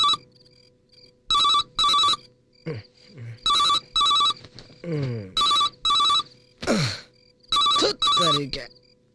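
A telephone rings in short, loud, repeated bursts with a steady rhythm, and voices talk in the gaps between the rings.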